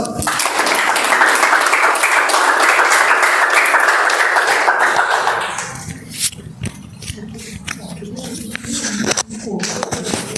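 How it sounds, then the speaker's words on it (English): Applause and clapping from a crowd at a Toastmasters meeting fill the first half, then fade out, leaving scattered room noise and a few faint voices. "applause"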